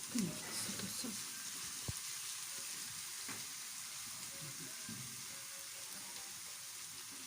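A small spoonful of ghee sizzling in a pan, a steady hiss with faint clinks and stirring noises.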